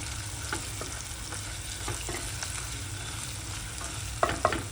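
Parboiled bitter gourd being stirred into fried masala in a pan, a steady moderate sizzle with scattered scrapes and two sharp spatula knocks near the end, no talking.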